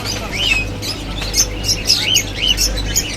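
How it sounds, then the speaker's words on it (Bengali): Budgerigars and cockatiels at a bird market give a steady stream of close, high chirps and whistled tweets in quick overlapping bursts, over a low constant hum. "এখানে বাজরিকার উঠেছে, এবং এখানে কিছু হোয়াইট কোকাটেল বেবিগুলো রয়েছে, রানিং পেয়ার কোকাটেল আছে।"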